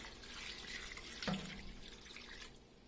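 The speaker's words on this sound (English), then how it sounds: "Add some water." Water pours steadily into a pot of Ogbono soup with stockfish, a bright splashing hiss, a brief louder splash midway, then tapering off; no talking.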